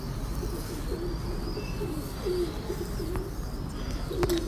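Pigeons at a pigeon-keeping house, cooing in low rolling calls that repeat steadily through the background, with a few faint chirps and no talk.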